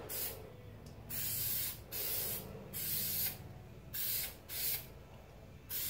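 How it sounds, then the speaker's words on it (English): 3M contact adhesive sprayed onto the carpet backing in a Rolls Royce Silver Cloud interior job, six or seven short hissing bursts in a steady rhythm, close and clear with no talk. "But I'm just going to spray that."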